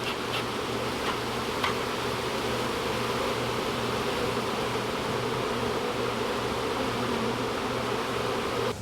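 Dense, unbroken roar of a honeybee swarm piled up between joists inside a gazebo, loud and close throughout with a steady low drone and no voices.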